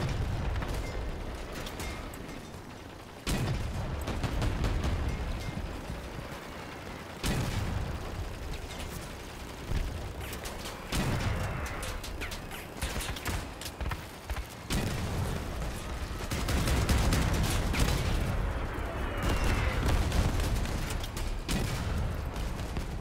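Mammoth cannons with super reloading in a video game, booming again and again in heavy, rumbling blasts with mechanical clanks in between, and a dense barrage of loud explosions that carries on without speech.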